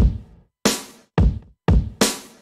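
Four punchy electronic drum hits from a drum machine played on a keyboard in Cakewalk, alternating deep kick-like thumps and bright snare-like cracks, each cut off sharply with silence between.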